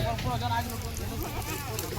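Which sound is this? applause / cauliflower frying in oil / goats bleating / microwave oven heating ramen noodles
goats bleating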